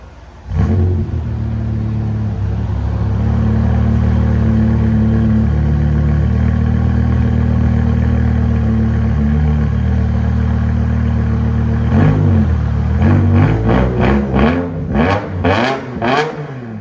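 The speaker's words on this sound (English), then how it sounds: "BMW M5, fully straight pipe." A straight-piped BMW M5 V10 idles with a loud, steady rumble for about eleven seconds, then breaks into a run of sharp, rapid revs that rise and fall close to the microphone.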